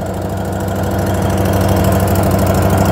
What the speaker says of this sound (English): And you hear the vacuum turn on.